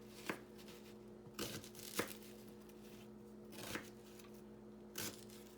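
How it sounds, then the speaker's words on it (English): A knife cuts through an onion on a board, trimming the ends and chopping it into smaller pieces for sofrito: five sharp, separate cuts spaced about a second apart, quiet and close, with no talking. "I'm gonna get my onion here, so I'm just gonna cut the ends. And then just cut this into smaller pieces."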